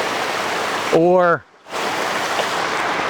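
Steady broadband rush of a river flowing around a wading angler while trout fishing, close and constant, broken briefly by a short spoken word.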